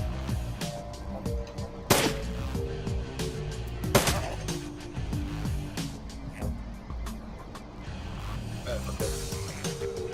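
Shotgun blasts in the video game Shadowrun Returns, a few sharp booms spaced a couple of seconds apart over a continuous music bed, with talking in the background.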